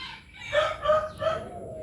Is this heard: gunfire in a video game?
no